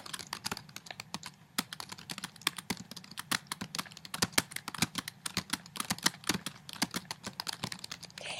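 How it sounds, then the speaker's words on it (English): Rapid typing on a computer keyboard, a dense run of crisp close key clicks in an uneven rhythm over a faint hum, with no talking, lasting several seconds. "I just type gobbledygook"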